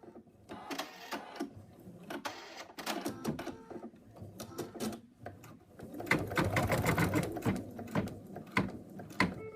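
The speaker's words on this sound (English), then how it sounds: "So I'm just going to stitch out the first bit." An embroidery sewing machine stitches out part of a stuffed cat toy, its fast needle clatter running in uneven bursts with brief pauses and growing louder and busier toward the end, close by and with no talking.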